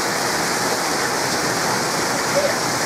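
Heavy rain during a thunderstorm, a steady dense hiss of downpour heard up close and loud throughout, with no distinct thunder.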